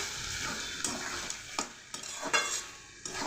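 Ash gourd with ghee and sugar stirred in a pan, a steady close sizzle broken by several scraping strokes of a spoon across the metal.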